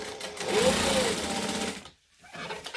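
A sewing machine runs steadily as it back-stitches the sides of a fabric bag together, a loud continuous mechanical whir that stops briefly and then resumes.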